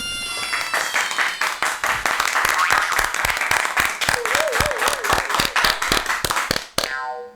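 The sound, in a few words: villagers applauding to welcome a guest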